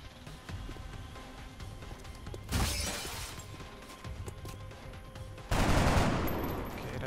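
Gunfire in XCOM: Enemy Within, two loud sharp bursts of shots with crashing impacts standing out over a quieter rumbling game background, no talk.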